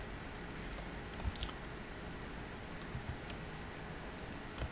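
Sparse, light key taps on a computer keyboard while entering a project name, a few soft clicks scattered over a steady hiss, fairly faint and close.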